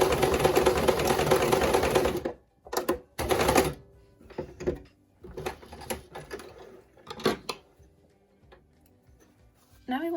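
A sewing machine back stitches fabric for a scrunchie, running steadily and loudly for about two seconds, then breaking into short bursts and starts among quieter handling sounds.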